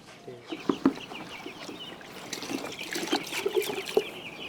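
Chickens at a poultry farm cluck close by in scattered, repeated calls over a steady background of many birds and trickling water.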